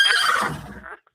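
A horse neigh sound effect plays as one loud, shrill, quavering whinny that fades out over about a second, heard alone without speech.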